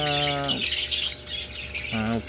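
Pet lovebirds let out harsh, loud squawks in two bursts, one at the start and another near the end, with busy chirping noise in between.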